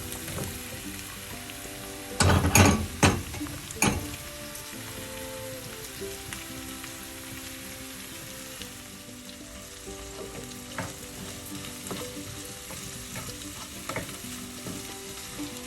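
Sliced ivy gourd being stirred into eggs and fried in a pan for a Kerala stir-fry: a burst of loud spatula scrapes and clacks early on, then a steady, close sizzle with occasional lighter stirs.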